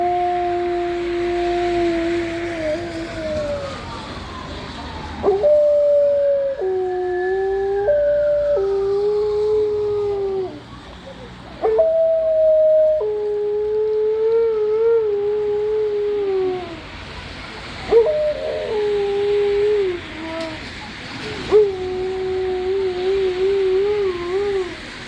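An Alaskan Malamute howls in long, wavering, siren-like notes. There are several separate howls with short pauses between them, and they sound close and fairly loud.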